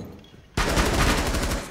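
Rapid automatic gunfire in Rainbow Six Siege, a loud close burst of fast evenly spaced shots erupting after a brief quiet lead-in and continuing to the end.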